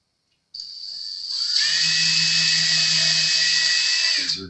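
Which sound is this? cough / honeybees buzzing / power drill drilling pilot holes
power drill drilling pilot holes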